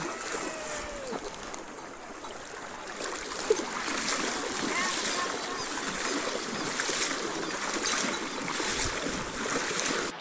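Water rushing and splashing steadily around a vehicle crossing the flooded ford of Riacho do Gado, a river crossing brimming with water, with a broad continuous wash and a faint voice in the background.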